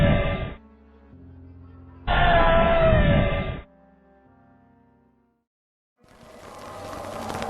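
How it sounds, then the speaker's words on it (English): A girl screams in a cemetery at night in two loud, piercing bursts, one short and one longer, with near silence between them, before a rustling, shuffling noise rises at the end. "the girl's scream while he's running away"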